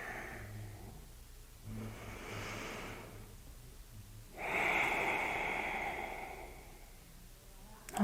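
Slow yoga breathing during a warm-up sequence: paced inhales and exhales come as soft airy rushes, with a stronger, longer breath midway, close and unhurried.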